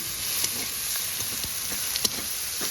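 Spice paste with salt and turmeric stir-fried for a jackfruit-seed and bhola fish mash, a constant hissing sizzle in the pan with occasional soft taps and scrapes of the spatula.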